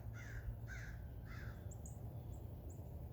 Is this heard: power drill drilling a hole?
no